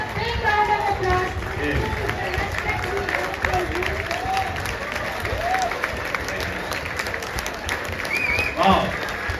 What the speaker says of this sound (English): And give a big round of applause.